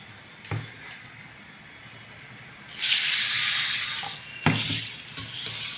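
Water splashes and swirls in a bowl in a few bursts, with soft sloshing between pours as green gram (moong) is rinsed.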